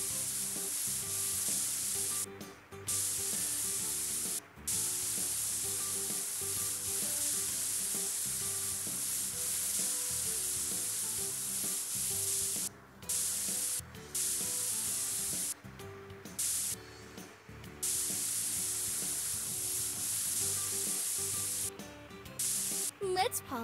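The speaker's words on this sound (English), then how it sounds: "Move the spray over to the car to paint it." Steady hissing spray paint on a car in a children's car service video game, continuous and airy, with brief gaps and a light game background beneath.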